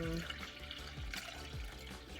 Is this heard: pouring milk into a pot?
yes